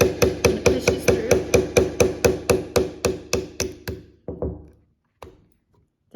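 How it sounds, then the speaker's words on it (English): A small precision screwdriver is hammered to drive out the dowel pins of a pump, giving a fast, even series of sharp metallic blows that slow and thin out into a few final spaced taps, with no talking. "You put it directly over the dowel pin and you hammer and it pushes through."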